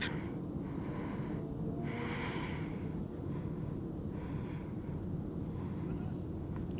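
Slow, deep breaths during a gentle yoga flow, long airy inhales and exhales rising and falling over a steady background hiss.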